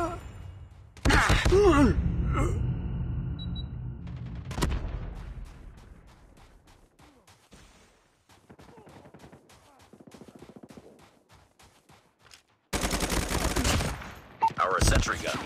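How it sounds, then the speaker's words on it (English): Sentry gun fire in a Call of Duty Mobile mission: loud, rapid automatic bursts that thin into scattered shots and tail off, then a fresh heavy volley near the end. "Sentry gun deployed."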